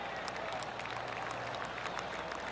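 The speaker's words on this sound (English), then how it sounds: "Oh, golf clap." Golf spectators at the Genesis Invitational offer a faint, steady patter of polite applause from a distance, a thin continuous wash of scattered hand claps.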